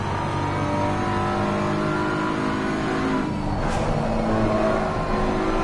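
A race car accelerates hard around the Oulton Park circuit, the engine roaring loud and continuous as it climbs through the revs, heard from onboard without pause.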